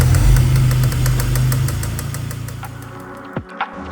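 A 2002 BMW 330i engine idles close by with a steady, heavy low rumble and a regular light ticking, then the sound fades, leaving a couple of short thumps at the end.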